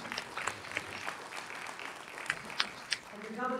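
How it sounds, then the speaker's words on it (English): An audience at a strategic launch event applauds the governor and his team, moderate clapping with a few sharper claps near the end before a voice begins speaking. "Let's give a round of applause to the governor and his team for such a comprehensive plan"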